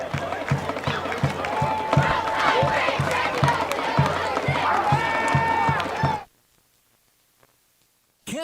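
Dense crowd din at a Gross vs Seward high school football game, loud and continuous with rhythmic low thumps like drums, steady for about six seconds before cutting abruptly to near silence.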